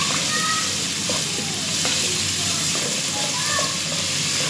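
Garlic ginger paste sizzles in hot ghee for mutton kaleji, a loud, constant frying hiss with light stirring taps up close, while a voice speaks faintly underneath.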